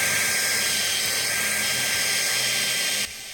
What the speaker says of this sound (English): I was using either a 4mm bit or a 5/32 drill bit to make this hole.